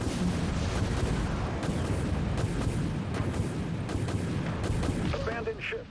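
A torpedo launch and explosions in a naval warship video game: a dense, continuous barrage of deep rumbling booms and blasts that fades slightly at the end.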